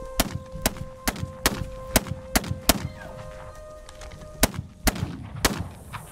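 A string of sharp gunshots in the video game This Land is My Land, fired in an irregular sequence of loud, punchy cracks with short pauses between them and ringing tails.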